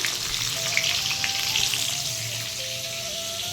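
Fish frying in a pan, a dense, steady crackling sizzle close up, continuous and alone with no talk.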